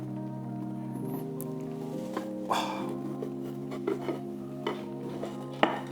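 Stir-fry pieces being flipped in a pan produce a series of close metallic clinks and scrapes of utensil on cookware, irregularly spaced, over a steady low hum in a home kitchen with no talking.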